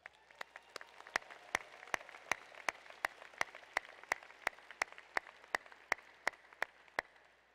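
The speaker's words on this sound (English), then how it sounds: "Give yourselves a round of applause." Graduates at a business school graduation ceremony applaud softly in a large hall, a faint wash of clapping under a distinct, evenly spaced sequence of sharp nearby claps.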